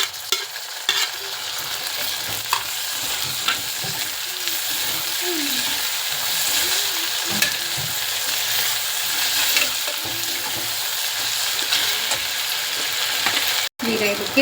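Tomato frying with onions in a pan gives a continuous close sizzle with steady stirring and scraping throughout, occasional soft clicks, and no talk.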